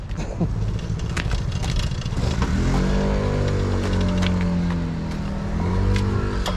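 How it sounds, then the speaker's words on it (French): A Derbi 96cc Bidalot WR motorcycle ridden on the road on the way to work, its small engine buzzing loudly and close, with the pitch rising and falling through revs and gear changes amid wind rush. "En tout cas, ça fait du bien de rouler en moto là"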